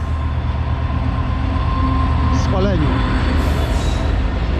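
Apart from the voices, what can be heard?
train passing by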